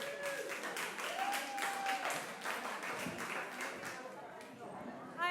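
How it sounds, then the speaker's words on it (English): Audience at a community storytelling night in Bremerton applauding two speakers, a short burst of crowd clapping mixed with cheers and talk that fades as the room settles. "Jose and Priya, round of applause"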